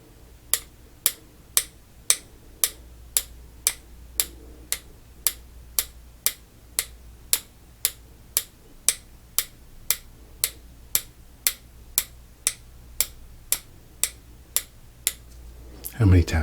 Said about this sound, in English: you tell me how many taps you hear